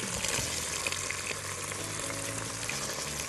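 Soaked chickpeas are stirred into spinach and tomato sauce frying in a pan, a steady close sizzle with wet stirring and scraping, no talking.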